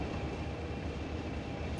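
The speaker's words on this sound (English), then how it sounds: "Hey! There's another freight train." A freight train rolling past in Train Simulator 2017, a steady dense rumble of wagons with no clear clicks, continuous and fairly close for a short stretch.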